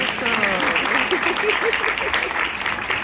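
Audience applause at a school safety patrol ceremony, continuous clapping under a voice speaking over it throughout.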